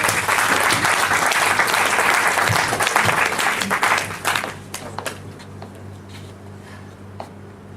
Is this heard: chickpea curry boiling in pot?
no